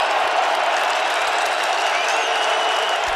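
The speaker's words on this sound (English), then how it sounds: "This crowd is ripping." A football stadium crowd at a Green Bay Packers at Minnesota Vikings game roars loud and continuous, a dense wall of cheering and applause with no break.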